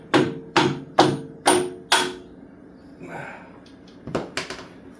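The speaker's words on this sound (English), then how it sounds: "Bolts going in." Bolts driven into a cut car frame with a 3/8 socket extension during a Lotus engine swap: five sharp, evenly spaced metallic knocks close up, a brief softer rustle, then a quicker cluster of lighter taps.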